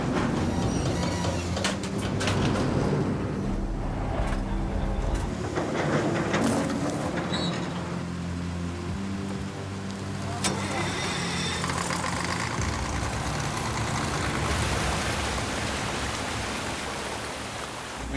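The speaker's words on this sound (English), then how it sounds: "We got 3 pumps going now." Several large pumps, including a massive 10-inch one, run at a gold mine, a loud, continuous mechanical rumble and rushing water drone with someone speaking over it.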